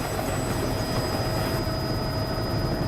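A helicopter in flight, heard from inside as a loud, steady rotor and engine roar with a thudding low throb and a constant high whine, unbroken throughout.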